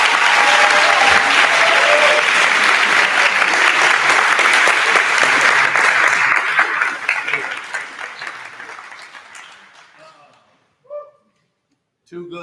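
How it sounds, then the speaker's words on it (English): A full round of loud audience applause at a spring awards showcase, with dense sustained clapping that gradually thins out and fades to scattered claps and near silence, and a few brief sounds near the end. "So please, another round of applause."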